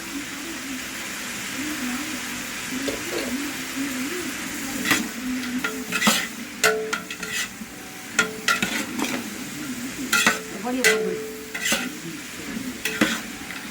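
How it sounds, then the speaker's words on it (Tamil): Grated coconut sautéing with curry leaves in a pan for sambar rice at a community free-meal offering, with a continuous hissing sizzle and frequent irregular scraping strokes of a ladle that grow busier in the second half. "இப்போ தேங்காயை வதக்கிடலாம்."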